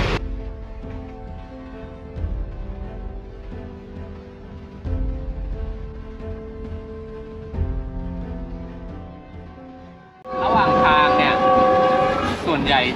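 The cheapest-class passenger train in Pakistan rumbles along with a steady rolling drone and clanks, then its horn blares loudly near the end, with faint voices in the background.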